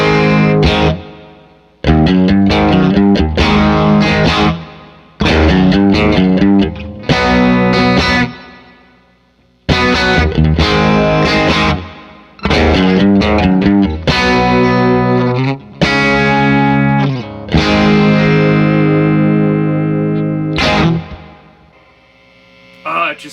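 Cranked electric guitar through a Fat Pants dual boost pedal into an amp, playing loud distorted chords and riffs in bursts with short pauses, with some hum between phrases.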